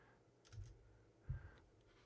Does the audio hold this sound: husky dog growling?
no